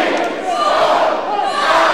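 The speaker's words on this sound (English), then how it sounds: "Crowd counting along with Chi Chi" A wrestling crowd at an independent show yells in loud unison along with chops, a sustained, full-throated chant that fills the room.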